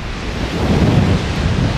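Strong wind buffeting a microphone at an open coastal spot in North Luzon, a steady low roaring rumble that swells slightly midway with no voices.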